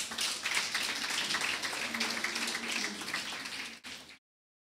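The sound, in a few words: audience clapping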